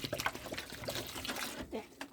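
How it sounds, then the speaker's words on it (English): Water trickles and pours into a pot of cut pumpkin pieces for boiling, a soft, steady liquid splash lasting a couple of seconds, close by with faint background voice. "I'm going to add a little bit more water"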